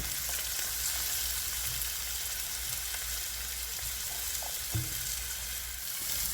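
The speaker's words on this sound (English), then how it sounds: "Now you just want to let this simmer for about 3 to 4 minutes." Celery for zucchini soup simmers and sizzles steadily in a pot, a constant soft hiss with occasional faint bubbling, close and quiet.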